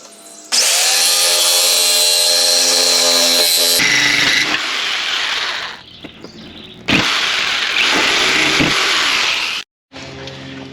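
A jigsaw cuts through the fender of a Jeep XJ, catching on the fender flare. It makes loud, harsh buzzing runs broken by short pauses and sudden stops and restarts.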